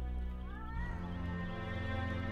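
A cat meows in the video game Erie, a drawn-out, wavering cry that rises and bends in pitch over a dense, steady background, close and clear.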